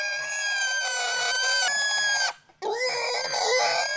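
A pig brought for a wedding feast on a Fijian island squeals loudly and continuously, a shrill sustained scream with a brief break before resuming, close by.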